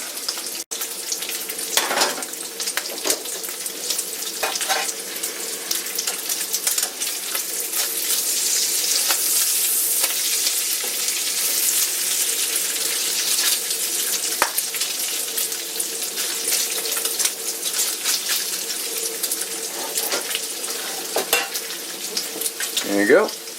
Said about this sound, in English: Going to cook my ham up in a skillet.